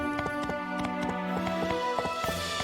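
Horse hooves clip-clop in a quick, regular gallop rhythm while riding in My Time At Portia, close and clear over a steady game music bed.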